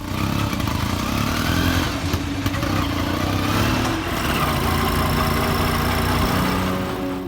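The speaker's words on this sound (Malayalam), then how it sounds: "ആ പഴയ 2 സ്ട്രോക്ക് എഞ്ചിൻ്റെ ശബ്ദം ചിലപ്പോൾ നൊസ്റ്റാൾജിയൊക്കെ തോന്നിപ്പിച്ചേക്കാം" The two-stroke engine of a 36-year-old API auto rickshaw idles loudly and steadily close by, a continuous rattling putter with a brief clatter near the middle.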